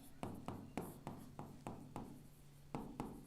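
Chalk tapping and scraping on a classroom board, a crisp rhythmic series of about ten close strokes at an even pace with no voice over it.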